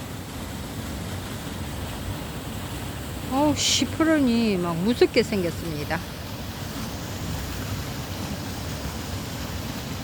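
Steady broadband rushing of Yongmun waterfall near Haeinsa fills the scene at moderate level, with a voice speaking briefly over it.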